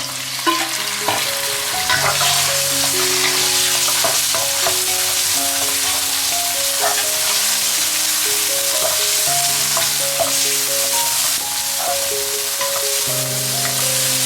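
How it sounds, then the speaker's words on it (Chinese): Noodles stir-fried in a wok with scallion, ginger, garlic and sliced meat sizzle steadily and loudly, with frequent scraping and clanking of the spatula against the pan and no talking. "下面开始炒面，先要葱姜蒜倒进去，还要切好的肉也倒进去。"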